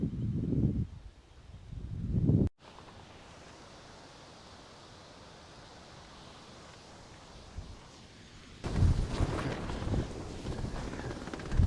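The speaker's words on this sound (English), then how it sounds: "the wind has picked up quite a bit" Strong wind blows in a storm, with heavy gusts buffeting the microphone at the start and end and a steady, hissing rush between them.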